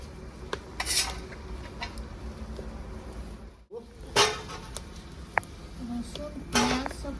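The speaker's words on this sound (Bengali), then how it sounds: "শুকনো লঙ্কাটাকে পুড়িয়ে নিচ্ছি" Dried chilies roasting in a pan in a village kitchen: metal utensil scrapes and clanks against the pan in scattered bursts, close and fairly loud, with a brief break midway.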